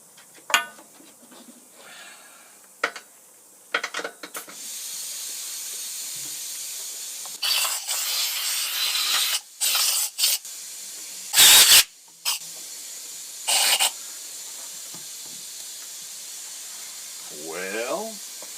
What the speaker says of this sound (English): Grab an air hose here.